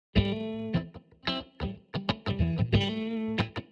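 A guitar fed through a parallel distortion pedal with EQ plays a choppy riff of sharp, distorted chords and stabs, loud and close, with no voices.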